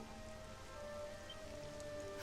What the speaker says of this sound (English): Why does it always start raining the second we get a chance to be alone?